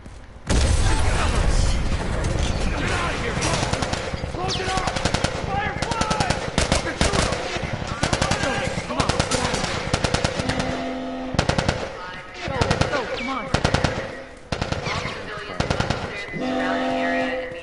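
Heavy machine gun fire in The Last of Us rattles in long, rapid bursts with brief gaps and some booming impacts, loud and close, while voices shout over the gunfire.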